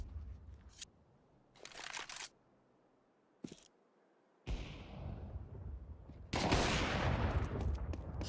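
Counter-Strike USP pistol fire in a competitive match: several separate sharp broadband bursts of shots and clatter spread through the clip, with a dense louder stretch of action near the end and no talking.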